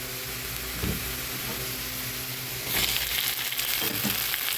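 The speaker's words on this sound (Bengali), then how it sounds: "পাট দিয়ে এখন পেঁয়াজটা ভালো করে ভেজে দিব" Jute leaves and onions crackle as they fry in a pan, with occasional stirring scrapes and a louder burst of sizzle partway through.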